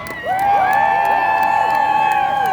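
A large crowd at the 2018 Women's March in New York City cheers loudly and steadily, with whoops and shrill whistle-like tones rising above a dense roar that swells early and holds.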